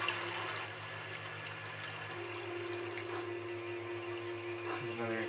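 Steady broadband water rush of a flowing river in the American McGee's Alice video game, continuous and moderately loud beneath a low hum and game tones, with no talk over it.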